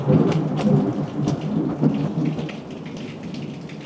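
Heavy thunderstorm in Negril, Jamaica: dense, steady rain pours loudly close by while deep rumbles of thunder roll beneath it, with a few sharper crackles early on and the downpour holding strong throughout.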